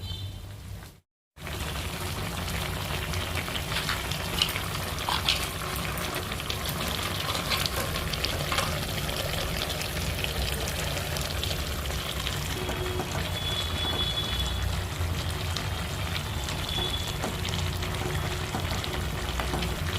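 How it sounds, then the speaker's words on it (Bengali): Lau shak curry bubbles in a pan with fried pointed gourd, aubergine and bori, giving a steady loud sizzle and simmer throughout with a short silent gap near the start. "দেখো ফুটতে শুরু করে দিয়েছে।"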